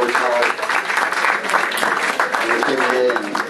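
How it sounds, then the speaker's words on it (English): Crowd applause fills a room at a boxing post-fight press conference, a steady dense clapping for several seconds with voices talking and calling out over it. "You should give it a round of applause for all the fighters on the card tonight"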